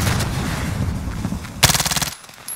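Rapid bursts of automatic gunfire in the Call of Duty Warzone video game, a sustained rattling volley followed by a sharp, louder close burst of fire near the end.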